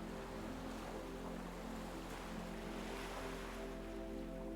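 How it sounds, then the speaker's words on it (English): Small ocean waves wash against a sandy beach shore as a steady, faint, low rumble with a soft hiss of surf and light wind, no voices. "you see little waves coming up and down, and up and down"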